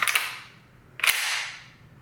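A Retay Masai Mara semi-automatic shotgun with an Inertia Plus system snaps its action closed twice, each a sharp, close metallic clack with a brief ringing tail, about a second apart.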